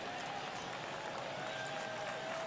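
A steady, dense roar from a virtual baseball stadium crowd in MLB The Show 23, Marlins versus Mets in a tense ninth inning, fills the whole stretch without breaks or clear voices.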